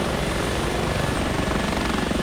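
H145 helicopter in flight in the X-Plane 11 flight simulator, a loud, continuous rotor and engine drone with rapid blade chop, close and unbroken, no voices.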